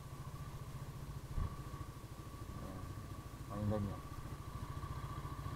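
A repaired motorcycle engine idles steadily and close by, a low, even rumble running throughout while someone talks over it.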